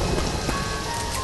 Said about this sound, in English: All right, I'm outside. It's raining.